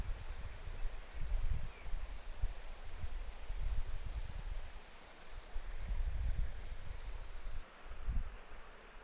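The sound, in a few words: river flowing nearby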